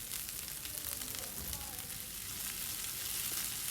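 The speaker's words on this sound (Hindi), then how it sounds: "हरी मिर्चें डाल के हमने 30 सेकंड के लिए दोनों चीज़ों को ज़रा अच्छे से फ्राई कर लेना है, लो टू मीडियम फ्लेम पे।" Garlic ginger paste and green chillies fry in oil over a low to medium flame, giving a soft, continuous close sizzle with light crackle and no voices.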